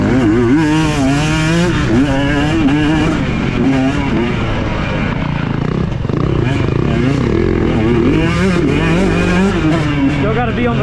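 A 2023 KTM 125 XC two-stroke dirt bike with throttle body injection revs hard on a rooty forest trail, its loud buzzing engine rising and falling as the clutch is feathered, with a rider's voice speaking over it.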